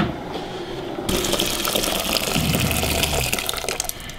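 Water gushes steadily from a tap into a container for making rhubarb wine, a loud continuous pour that starts abruptly after a quiet second and keeps running.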